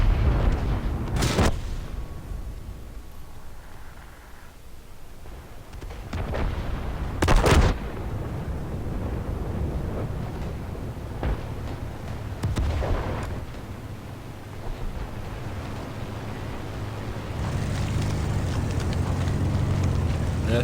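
Tank cannon firing in World of Tanks, several sharp loud booms spaced seconds apart over a continuous engine rumble, with hissing air release between shots.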